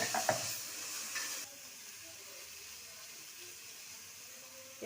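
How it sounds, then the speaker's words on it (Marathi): Crushed chillies sauté in a little oil in a pan, giving a soft, steady frying hiss after a brief clatter at the start, faint and without talk. "ह्या चुरगळलेल्या मिरच्या मी थोड्या तेलात परतून घेते."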